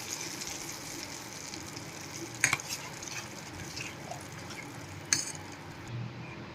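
Methi chana pickle mixture is stirred in a pan over a low, steady sizzle, with two brief sharp clinks of the spoon against the pan.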